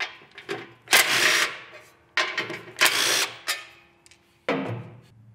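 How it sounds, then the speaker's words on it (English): A power driver backs out the bolts holding down the front foot pan of a Hustler Fastrak lawn mower, in several short, loud whirring bursts separated by brief pauses, close up and with no speech. "Now we need to remove the two bolts that are holding down the front of your foot pan on your Fastrak."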